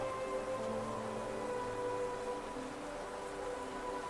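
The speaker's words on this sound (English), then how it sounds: "I have always loved the sound of raindrops." Rain ambience in the video game Hollow Knight, a steady soft patter and hiss of falling drops with a faint tonal melody underneath, continuous and even throughout.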